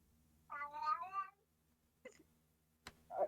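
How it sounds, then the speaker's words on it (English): A house cat gives one drawn-out, wavering meow close by, followed by a few faint, brief sounds after it. "Is that your cat?"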